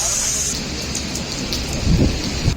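Heavy rain and stormy winds at Murree and the Galiyat, a steady loud wash of rainfall with gusty rumbling swelling toward the end, heard without speech.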